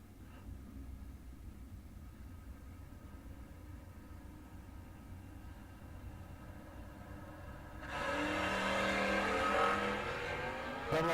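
A 1987 Mustang at a door car duel drag race: a low distant engine rumble, then a sudden loud roar as the car launches and accelerates hard, sustained for several seconds.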